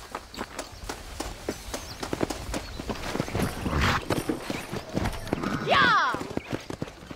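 Horse hooves clip-clopping at a run in the Red Dead Redemption video game, a steady rapid rhythm up close with a whinny near the end, under intermittent talk.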